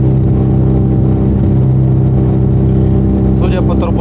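A small aircraft's motor drones with a steady, loud, buzzing hum close by, and a voice is briefly heard near the end.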